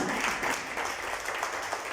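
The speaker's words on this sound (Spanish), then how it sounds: "Denle un aplauso" A church congregation claps in a brief, even burst of applause at moderate volume, with no clear speech over it.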